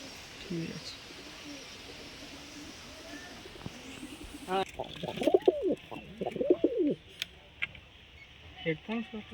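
Golden pigeons coo in soft, repeated rounded calls, close by, after a stretch of quieter ambient noise, with a few light knocks and clicks around them.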